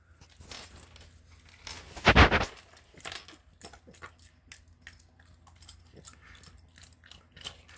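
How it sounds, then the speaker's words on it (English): Dogs chew homemade chicken, steak and fish treats up close, with irregular crunching and clicking bites and one louder burst of jangling rattle early on, no talking. "Let's go ahead and give my dogs some to see how they like it."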